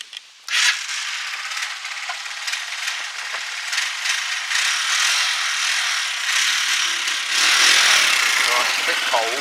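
A Huoniao HN125 motorcycle engine cranks and fires with a sharp onset, then settles into a steady, loud, raspy mechanical clatter and ratcheting rattle that swells slightly near the end, recorded close by.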